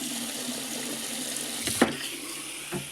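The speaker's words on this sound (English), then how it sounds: "First, check if there is water coming in." Water flows steadily into an LG washing machine during an inlet check for an IE error, a continuous close hiss with a brief bump partway through and no talk.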